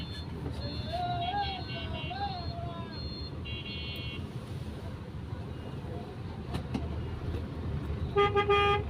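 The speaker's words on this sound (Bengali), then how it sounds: "পুরা রাস্তা জ্যাম" Car horns toot repeatedly over the rumble of a road traffic jam, several short honks near and far, with a burst of honking at the end.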